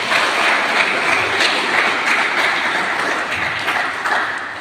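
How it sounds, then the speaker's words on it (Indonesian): An audience claps steadily and continuously in a hall during a Maulid Nabi religious talk at IAIN Ternate, a dense, even patter of applause that holds for several seconds and eases slightly at the end. "saya juga minta aplaus juga"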